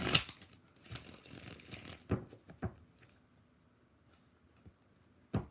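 Tarot cards being shuffled during a live reading, with a riffling burst at the start and several soft, scattered slaps and taps of the deck that trail off into near quiet.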